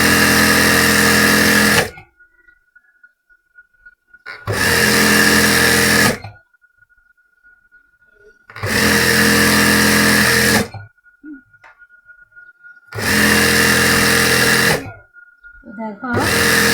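A sewing machine stitching salwar fabric, running in four loud, steady bursts of about two seconds each, separated by quiet pauses, with a faint hum in between.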